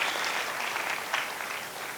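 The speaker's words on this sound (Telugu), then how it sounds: "గట్టిగా చప్పట్లు కొడదామా?" Steady applause from an audience welcoming a newly finalised trust board at a PMC community event, a dense even patter of many hands, moderately loud and continuous, with a brief swell partway through.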